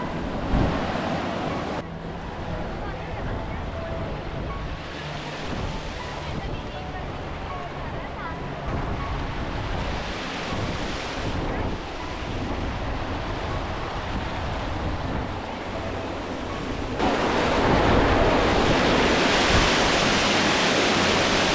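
Rushing water from the Madhe Ghat waterfall near Pune roars as a loud, continuous broadband wash mixed with wind buffeting the microphone, swelling louder over the last few seconds.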